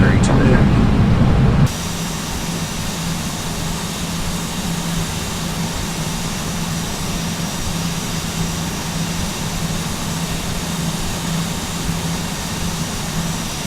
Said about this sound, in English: the aircraft now making its final turn to Milne